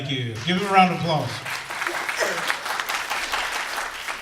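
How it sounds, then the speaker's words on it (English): Audience applause at a symposium, a steady wash of clapping that swells after a brief voice at the start and carries on evenly to the end at moderate loudness. "Give him a round of applause."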